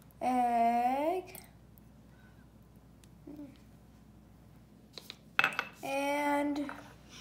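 An egg goes into a bowl of pancake and waffle mix with a short clink near the end, set between stretches of talking in a quiet kitchen.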